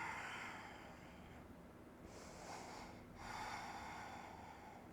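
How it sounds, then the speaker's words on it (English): Slow, deep breaths during a yoga flow: a long airy inhale followed by a fuller, hissing exhale, close and fairly quiet with no talking. "Deep breath in. And a full breath out."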